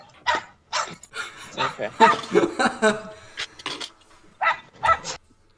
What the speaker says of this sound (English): we just have a dog wanting to sniff another dog